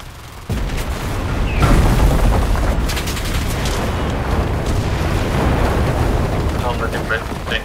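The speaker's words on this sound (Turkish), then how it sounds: "Ha, patladı tank sonunda." A loud, deep tank explosion in the video game Enlisted erupts and then rumbles on as a sustained, noisy roar with crackling debris, close and continuous.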